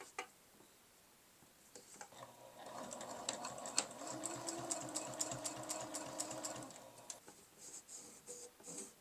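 A sewing machine stitches a fabric scrap bookmark at about a 1/8 inch seam, a fast even run of mechanical ticks, near and fairly quiet, with brief clicks before and after the stitching.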